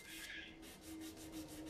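Steady rubbing of sandpaper over a wooden heat register to smooth out plane chatter marks, a continuous close scratchy hiss with soft repeated strokes.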